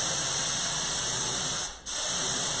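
A spray gun lays HOK clearcoat onto a panel with a steady, loud hiss. The hiss stops briefly between passes and then resumes, with no talking.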